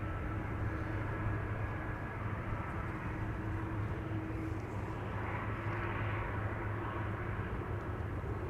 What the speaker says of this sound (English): That is an A320neo.